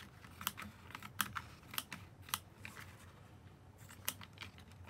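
Scissors snipping through a sheet of Playe material for a handmade pouch, a quiet series of crisp, irregular cuts close by with short pauses between them and no voices.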